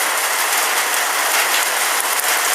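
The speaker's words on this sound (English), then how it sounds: "But yeah, it's starting to rain now." Steady rain falling outdoors under a grey sky, a dense continuous hiss of drops spread evenly through the whole stretch, fairly loud and close with no voices.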